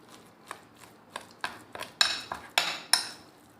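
A spoon clinks and scrapes against a bowl while marinated kofta mince is mixed, about a dozen sharp, close strikes arriving in an uneven rhythm, with brighter knocks in the second half.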